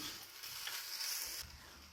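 Steady sizzling and frying of kodo millet rice sautéing in a hot pan, with a soft stirring scrape partway through; close and continuous, no talking.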